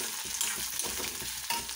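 Chopped tomatoes and onion fry in a pan on a home stove, a continuous bright sizzle broken by a few scraping stirs, fairly close, with no talk over it.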